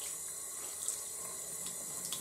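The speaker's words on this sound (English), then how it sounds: "let's go ahead and just rinse my hands off." Running tap water as hands are rinsed after washing makeup brushes, a steady close splashing stream with small bursts and drips across the whole stretch.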